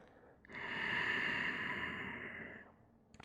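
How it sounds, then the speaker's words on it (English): Ujjayi breathing through the nose with a gentle throat constriction during a yoga class: one long, soft, airy exhale with a hollow, ocean-like rasp, close and quiet, with no talking over it. "This is our Ujjayi breath."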